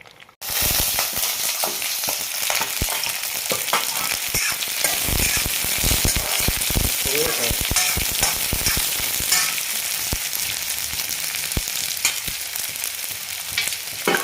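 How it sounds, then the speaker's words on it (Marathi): Steady crackling sizzle as onion and coconut roast in a pan, with scattered pops and stirring scrapes, close and fairly loud, continuing throughout without any talk. "कांदा खोबरं आणि खोबरं आणि कांदा हे आपण पूर्णपणे भाजून घेतोय"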